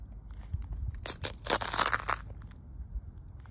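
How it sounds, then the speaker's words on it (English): A dried pine cone crunched underfoot at Tusayan Montane Campground, a close series of crisp cracking and crackling snaps building into a dense burst before trailing off, no voices. "Kind of satisfying to hear a dried pine cone crunching."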